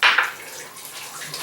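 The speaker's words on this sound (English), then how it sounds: "I am going to put some hot water into the Instant Pot" Hot water poured into an Instant Pot, a loud splashing rush at the start that settles into a steady, softer flowing hiss.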